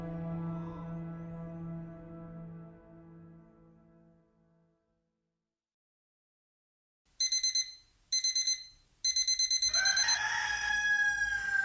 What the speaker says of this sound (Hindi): अलार्म क्लॉक की आवाज से देव झटके से उठकर वॉच देखता है।